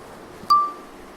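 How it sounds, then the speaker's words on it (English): A doorbell rings once with a short, bright ping at a pub that then decays quickly against faint background noise, with no talk. "Oh my God, the bell. Wait, keep ringing."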